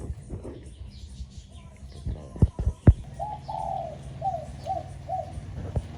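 A dove coos in a short series of soft, repeated calls after a few sharp knocks, close and clear against quiet background noise.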